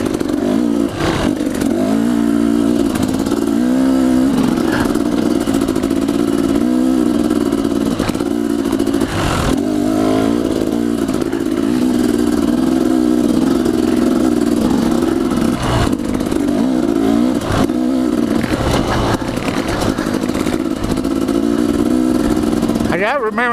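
A 2015 KTM 250XC two-stroke dirt bike is ridden, its engine droning loud and steady with revs rising and falling, clattering over terrain while the rider talks over it.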